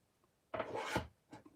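Paper die-cut words being trimmed for a mini slimline card, heard as a short close scraping cut lasting about half a second, then a brief fainter rasp, with quiet stretches around it.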